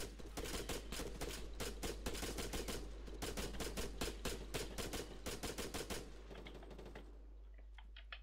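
Rapid bursts of blind automatic gunfire in the military shooter Arma 3, loud and close, firing in dense rhythmic volleys for most of the stretch before tapering into quieter scattered shots at the end.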